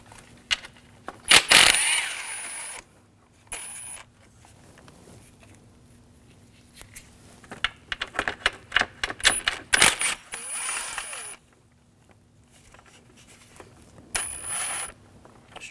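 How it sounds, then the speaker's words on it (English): Metal nuts being worked loose with an 11mm socket from the intake manifold of a 2007-2013 BMW 328i 3.0L inline-six, heard as sharp clinks and rattles in scattered bursts with quiet gaps between. "Now we're going to take the nuts out for the intake and the bolts. We're going to use an 11mm socket."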